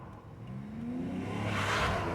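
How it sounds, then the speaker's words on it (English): A single car drives by on a dirt road near a dried-out lake, its engine hum growing from faint to moderately loud as it approaches, heard alone with no talking. "There's a car"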